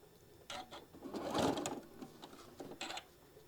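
A sewing machine runs a short burst of stitching, with a soft whir that rises near the middle and fades again. It sounds close and fairly quiet, and a few light clicks sit at either side.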